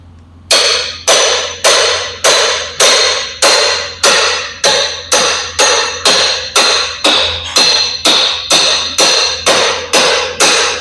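Steady, evenly spaced metallic hammer blows drive a piston out of a New Holland tilt cylinder, about once every half second, loud and close, each strike leaving a brief ringing decay.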